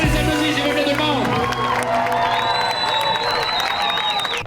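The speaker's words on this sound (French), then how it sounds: "On les applaudit, s'il vous plaît, tout le monde!" Spectators at the 42 km SSQ Lévis-Québec marathon cheer and whoop for the runners, with high rising shouts and a lively crowd roar mixed with scattered clapping throughout.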